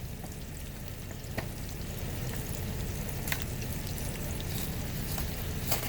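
Food frying in a pan inside a truck makes a steady, close sizzle throughout, with occasional sharp pops and clicks rising above the hiss.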